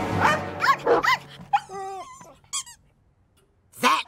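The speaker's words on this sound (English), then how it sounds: "Good dog." A dog in a Mr Bean comedy gives short yelps and bright squeaky whines in a few quick bursts, close and clear, with a final squeak after a short pause.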